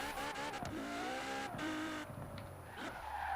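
A Ferrari Portofino fitted with a LaFerrari engine drives in Forza Horizon 4, its engine note close and continuous, rising and falling in pitch as it revs and shifts without a break.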